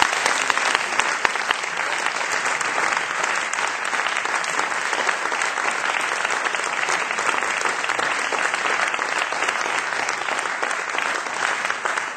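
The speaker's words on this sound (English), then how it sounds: "Maybe another round of applause for Joel." Sustained, dense audience applause after a senior recital by Joel. It fills the room steadily and loudly for the whole stretch, with no voices over it.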